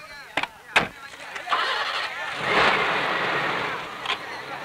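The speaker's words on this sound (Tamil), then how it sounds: "வண்டி எடுங்க." A car starts and pulls away, a few sharp knocks and clunks giving way to a rising engine rush that swells and holds steady near the microphone, with a voice speaking briefly over it.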